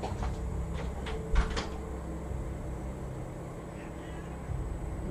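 A door clunks and rattles indoors with a few short knocks as it opens to let a cat named Dorian in, then quiet room tone follows.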